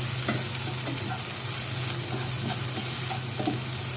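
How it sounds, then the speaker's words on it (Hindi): Spring onions sauté lightly in a pan, giving a steady soft sizzle with occasional stirring clicks from a utensil, close and continuous with no talking. "ब्राउन नहीं करना, बहुत हल्का सा सौते करना है।"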